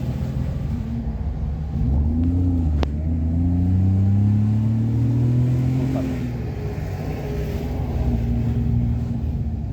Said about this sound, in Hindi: ये देखिए, ये ट्रक